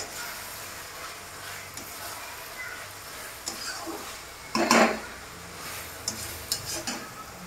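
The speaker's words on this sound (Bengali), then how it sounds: "ভালো করে এটাকে এইভাবে ঘুরিয়ে ঘুরিয়ে যাতে তলায় না ধরে যায় এইভাবে এটাকে ঘুরিয়ে ঘুরিয়ে ভাজতে হবে" Chicken masala for dahi chicken being stirred and fried in a pan: a steady low sizzle with light scraping, and one louder burst of spatter and scraping about midway.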